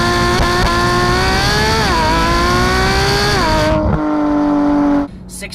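A 2015 Porsche GT3 engine revs hard through the gears at close range, its loud rising wail dipping briefly at two upshifts before climbing again, then settling to a steady tone and cutting off abruptly.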